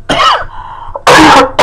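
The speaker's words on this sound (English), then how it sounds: "As I cough." A person clears their throat, then gives two loud, close coughs in quick succession, the second one short.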